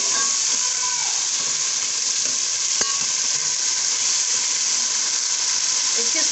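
Large potato chunks fry in oil in a pot, giving a constant bright sizzle at moderate level with one sharp utensil tap partway through.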